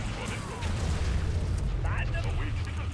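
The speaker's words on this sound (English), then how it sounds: "Nuclear weapon launched." A nuclear weapon detonates in C&C Rivals, a deep rumbling boom that swells and rolls continuously across the battlefield, with in-game unit voices calling out over it.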